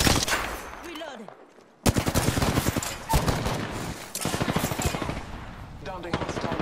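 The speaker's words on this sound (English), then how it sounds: "Yeah, getting shot at." Rapid automatic gunfire bursts in the Apex Legends video game, loud and close, with a brief gap before repeated dense volleys continue; faint voice chat sits underneath.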